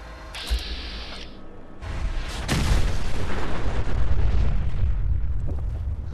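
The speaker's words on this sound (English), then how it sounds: "My top 3 best nuclear explosions I've witnessed." A nuclear explosion in the video game Fallout 4 erupts with a sudden loud boom that swells into a long, rolling roar which keeps rumbling for several seconds.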